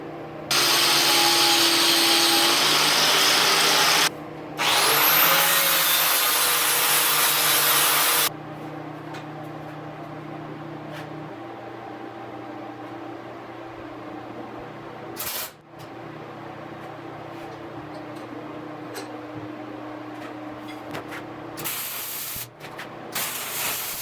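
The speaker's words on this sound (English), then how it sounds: "I'm just going to weld these on, and that will help blunt these edges" Threaded caps being welded onto a metal tent stove: loud steady hissing and buzzing bursts that cut on and off, then a long quieter stretch of low hum and faint crackle with short sharp noises.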